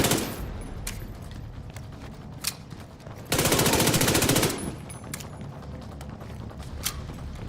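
Rapid SMG gunfire bursts in a multiplayer survival video game, a loud sustained stream of shots about a second long amid scattered single impacts and game noise.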